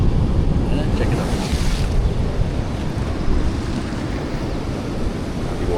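Sea waves surging against rocks in a big bay near Toco rock pools, a loud, continuous roar of churning water mixed with heavy wind buffeting the microphone.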